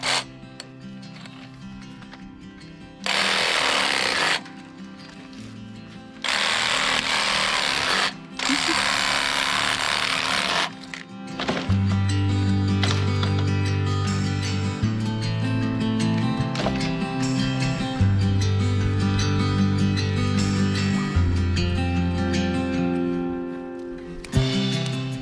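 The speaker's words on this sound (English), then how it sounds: "So to take off all this old 3/4 inch PVC, the trusty old Sawzall." A Sawzall reciprocating saw cuts through old 3/4-inch PVC in three short loud bursts, followed by a longer stretch of rattling, buzzing cutting, close up and without talk.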